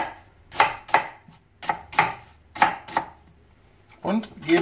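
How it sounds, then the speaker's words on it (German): Knife coarsely chopping an onion on a cutting board, with roughly eight sharp, distinct chops in an uneven rhythm, close and clear, followed by a brief clatter at the end. "Dann schneiden wir die Zwiebel ganz grob klein."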